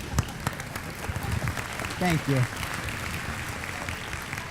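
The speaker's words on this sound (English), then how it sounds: "Let's give her a round of applause." Keynote audience applause, a steady moderate clapping with a brief spoken thanks partway through.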